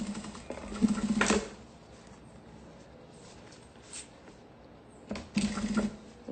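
A sewing machine stitches the side panels of a mate bag to its lining in two short, quiet bursts of rapid mechanical clatter separated by near silence.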